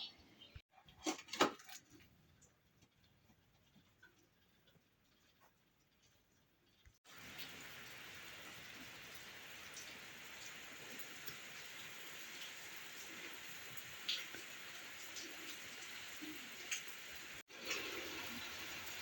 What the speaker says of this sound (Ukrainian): поки ми капали, почався дощ